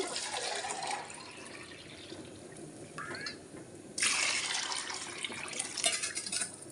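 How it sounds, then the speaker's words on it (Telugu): Water is poured into a pot for biryani rice, a faint watery rush with splashing that pauses briefly, then returns louder and fuller for the last few seconds, with no talking. "3 డబ్బాలు నీళ్ళు పోసాను."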